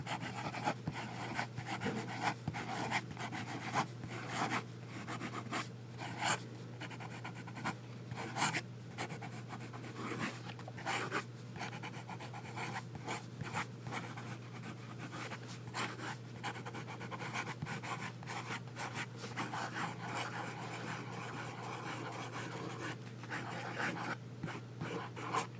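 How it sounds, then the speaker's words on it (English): An Esterbrook Estie Maraschino fountain pen writes quickly across paper, a close, continuous scratchy rasp of fast strokes over a steady low background hum. "Fast writing."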